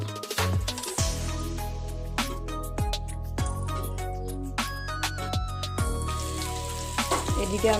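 Potatoes fry in a pan of oil for mutton aloo jhol, giving a steady close sizzle broken by sharp clinks and scrapes of a utensil against the pan.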